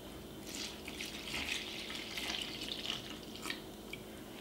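Milk pouring into a mixing bowl of flour and eggs for ube mochi waffle batter, a steady close liquid trickle running for several seconds with faint splashy variations.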